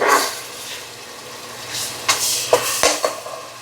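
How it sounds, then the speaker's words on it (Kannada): Ginger garlic paste frying with tomato in a pan for chicken biryani: a soft, steady sizzle with a few scraping stirs and light clinks of a spoon against the pan. "ಫ್ರೈ ಆಗಿದೆ, ಇದಕ್ಕೆ ಶುಂಠಿ ಬೆಳ್ಳುಳ್ಳಿ ಪೇಸ್ಟ್ ಹಾಕ್ತಾ ಇದ್ದೇನೆ. ಇದು ಹಸಿ ವಾಸನೆ ಹೋಗುವವರೆಗೆ ಫ್ರೈ ಮಾಡಬೇಕು."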